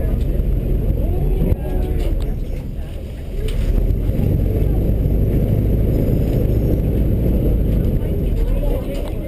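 Airboat engine on Everglades wetlands holding a steady, loud low drone with broadband wind-like rush, a brief dip then powering back up, under a speaking voice.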